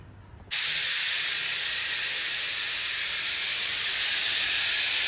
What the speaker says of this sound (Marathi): आता दोन तीन शिट्ट्या होऊ द्यायच्या